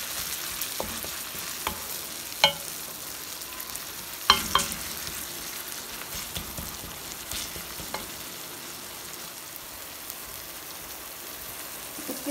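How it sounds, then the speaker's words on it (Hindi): Garlic and ginger fry quietly in a pan, a soft continuous sizzle broken by occasional sharp clicks and scrapes of stirring, close but low in level, with no voices. "लहसुन अदरक को हम मिक्स कर लेंगे। एक मिनट इसको हम फ्राई करेंगे"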